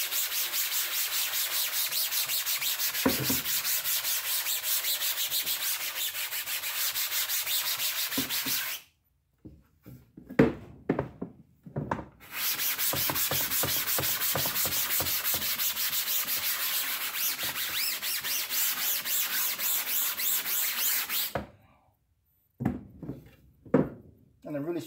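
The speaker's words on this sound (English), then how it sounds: "I'm gonna scrub it a little bit more before we wash it out." A screen coated in Dawn dish soap is scrubbed with long, steady rasping strokes, close and loud, broken by two pauses filled with knocks and handling sounds.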